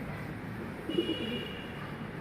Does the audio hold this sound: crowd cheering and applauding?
no